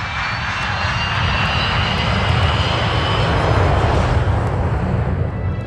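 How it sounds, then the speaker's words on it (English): Tupolev 154 airliner engines in flight: a loud, steady jet roar with deep rumbling low end and a broad hiss, continuous and unbroken throughout. "The plane is a Tupolev 154."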